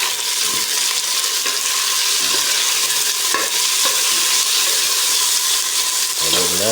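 Onion, garlic and tomato sauté in a pan for a mixed vegetable and shrimp dish, a loud, close, steady hissing sizzle with occasional scraping stir strokes. A voice is heard briefly near the end.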